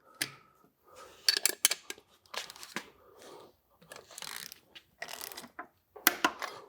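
A ratchet wrench with a 15 millimeter socket turning a bolt on a 2014–19 LT truck, giving short bursts of close, dry clicking separated by brief pauses.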